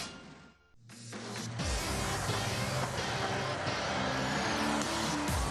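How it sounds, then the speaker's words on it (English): A loud, rough supercharged engine of a 1920s Mercedes 710 SS or 720 SSK racing car roars and revs continuously on a racetrack, gear changes audible as the pitch drops and climbs again, close by with no talking. "Their racing machines from the 1920s with compressor engines"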